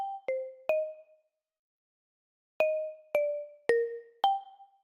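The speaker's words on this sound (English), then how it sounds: "This is the Ableton stock marimba." Ableton's stock marimba plays a layer of clean, bright mallet notes: a quick group of three, a pause of over a second, then four more spaced evenly, each note ringing briefly and decaying alone.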